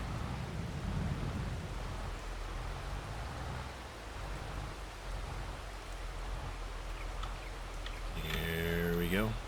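Rain falls steadily in Farming Simulator, a constant soft hiss across the whole scene, with a brief rising mechanical whine near the end, likely the game's machinery.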